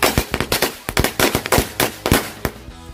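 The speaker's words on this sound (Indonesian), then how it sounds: "kita nyalain mercon korek Corsairs yang warna biru" A string of blue Corsairs match firecrackers goes off in a rapid, irregular series of sharp, loud bangs, roughly two dozen cracks over a few seconds, close by and without talk.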